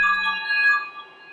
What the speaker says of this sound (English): Next time, put your phone on silent, Travis.